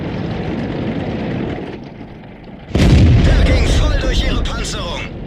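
A tank gun fires in World of Tanks, a sudden heavy boom that cuts through steady engine rumble and trails off into a long rolling echo, loud and close.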